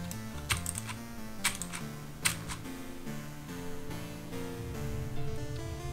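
Typing on a Filco Majestouch Convertible 2 mechanical keyboard with Cherry MX Blue switches produces sharp, clicky keystrokes in quick bursts and steady runs, heard close up over soft background music.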